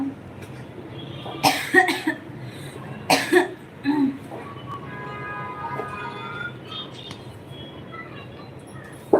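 A woman with a cold coughs several sharp, close times, spaced irregularly with throat clearing between, over quiet background noise and some faint tonal sounds.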